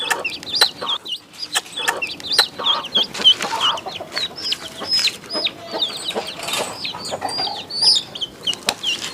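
A chicken chick peeps and clucks close by in rapid, high, repeated chirps that keep going without a break, with occasional soft rustles and flapping.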